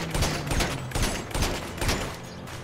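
Repeated gunfire in GTA 5 aimed at a car's tires, a series of about six loud sharp shots in quick irregular bursts, close and dry, with no talking.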